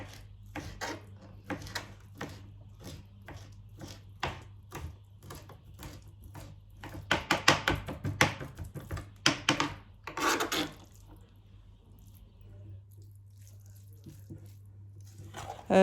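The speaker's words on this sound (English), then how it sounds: "The fillets, so I chop them fine, and in they go with the rest of the stuff." Knife chopping cured herring fillets finely on a board, a quick run of close, rhythmic cuts that gets denser and louder midway, then stops and leaves a quiet hum.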